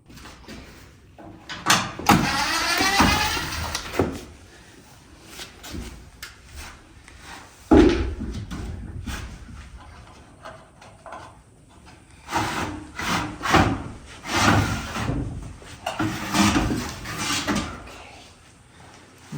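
A heavy composite pocket door from a Home Depot kit slides and bumps along its overhead track during installation, giving repeated rolling, rubbing and knocking bursts with a sharp thud partway through.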